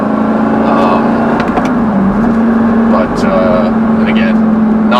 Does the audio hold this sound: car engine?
yes